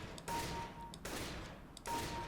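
Gunshots in Counter-Strike: Global Offensive during aim practice, three sharp shots spaced under a second apart, each followed by a brief noisy tail, fairly faint.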